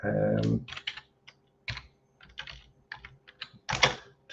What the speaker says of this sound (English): So I'm just going to type something there